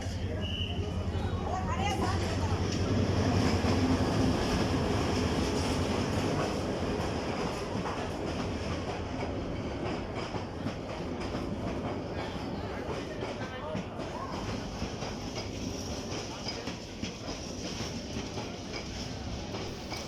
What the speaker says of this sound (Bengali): ট্রেনটি কোনো একটি কারণে লেট হওয়ার কারণে ট্রেনটি এখানে এসে পৌঁছায়